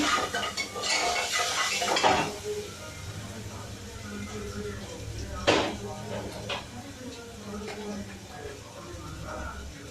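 A utensil scrapes and clinks in a pan while garam masala and other spices are stirred during cooking. Irregular metallic stirring sounds up close, with one sharp clank and a steady low background.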